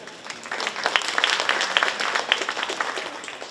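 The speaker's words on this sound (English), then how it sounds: "Let's give them also a warm applause," Audience at a company annual gala applauds steadily, a dense wash of clapping hands that rises and holds, filling the hall for a few seconds.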